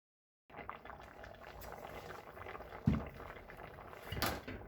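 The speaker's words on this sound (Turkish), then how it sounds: "Ocağımın altı da orta kısıkta kaynamaya devam ediyor." Tomatoes for homemade ketchup simmer in a covered pot on a stovetop over medium-low heat, giving a steady, quiet bubbling hiss with a soft lid or pot knock partway through and another brief clatter near the end.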